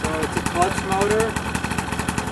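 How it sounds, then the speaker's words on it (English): A Vittorazi paramotor engine idling at around 2600 RPM, a steady, close, pulsing mechanical chug with someone talking over it. "The idle speed on this motor right now is around 2600 RPM."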